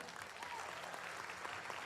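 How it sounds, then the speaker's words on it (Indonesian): Steady applause from a seminar audience, dense clapping heard at a distance and fairly faint, continuing evenly throughout with no speech over it. "Tepuk tangan paling meriah pun Anda."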